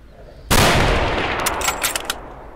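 A single loud rifle gunshot in the video game S.T.A.L.K.E.R. Anomaly cracks sharply up close, followed by a long rolling echo tail that fades over two seconds.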